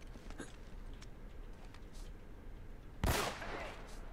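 Gunshot headshot in Uncharted: Drake's Fortune, a single sharp shot crack late in the stretch over a low background hum, with faint clicks earlier on.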